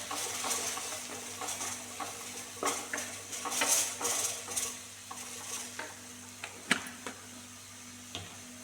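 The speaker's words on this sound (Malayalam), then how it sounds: "പെട്ടെന്ന് വഴണ്ട് വരും. ഉള്ളി വഴണ്ട് വന്നിട്ടുണ്ട്." Onions sautéing in a pan on the stove, with a soft steady sizzle and scattered scraping and clinking of a spoon stirring against the metal, fairly quiet and close, with no talking.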